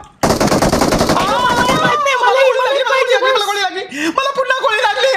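Rapid automatic gunfire in a video game rattles loudly for about two seconds, then gives way to excited voices and tonal game sounds with a few scattered shots.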